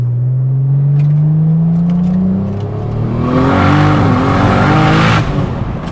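A 2JZ-swapped Nissan S15 Silvia with an 8HP70 transmission on drag radials accelerates hard, heard loud from inside. The engine note climbs steadily, drops at a gear change, then surges upward again with a broad roaring rasp.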